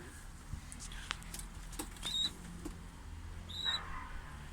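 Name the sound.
pigeon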